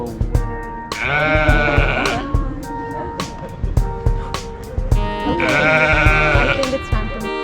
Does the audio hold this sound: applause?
no